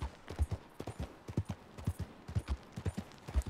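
Steady clip-clop of a horse's hooves in Red Dead Redemption 2, a brisk rhythmic run of close, distinct hoofbeats with no talk over them.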